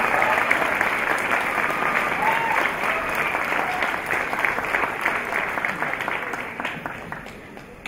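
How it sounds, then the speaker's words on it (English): Enthusiastic studio audience applause for contestants on a comedy panel game show, a dense, steady clatter of many hands that fades slightly near the end. "give a big round of applause for Emma the Animal Newman."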